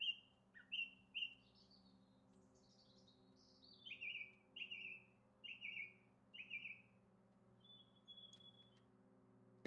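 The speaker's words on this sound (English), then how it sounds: "Ominous bird song." A bird sings a sequence of short, clear whistled chirps that rise and fall in repeated phrases, spaced a beat apart and heard close and alone over a faint low steady hum.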